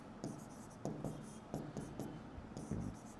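Pen scratching on paper while writing out the calculator steps for a polar-to-rectangular conversion: close, quiet strokes come in short irregular bursts with brief pauses between them.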